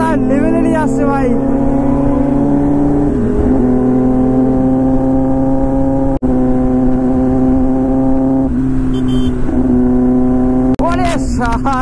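A Kawasaki ZX-10R motorcycle engine drones loudly and steadily while riding on a rainy day, its pitch shifting with throttle changes and gear shifts, heard close up with wind noise.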